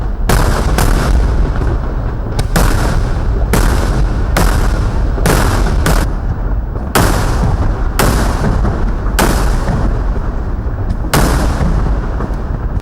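Loud daytime fireworks at a Kerala temple pooram festival: rapid, continuous volleys of booming blasts and sharp cracking bursts, near and dense, coming in repeated clusters with no pause across the whole stretch.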